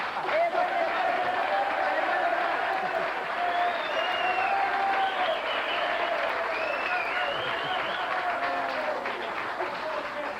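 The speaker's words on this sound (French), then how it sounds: "Et oui, l'applaudissement pour 40 là" Studio audience applause on a 1987 Quebec hockey talk show, sustained clapping with some cheering, while voices talk over it throughout.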